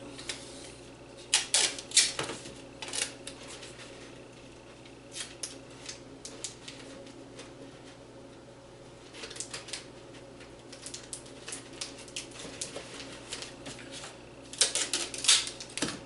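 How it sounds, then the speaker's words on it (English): Tape being pulled and pressed onto a cardboard soda box hat, with bursts of crackling, ripping tape and tapping in clusters separated by quieter stretches, close and fairly loud. "Again with the tape."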